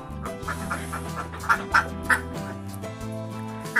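Laying ducks quacking in a pen, several short nasal quacks rising over a steady low hum of background noise at moderate distance.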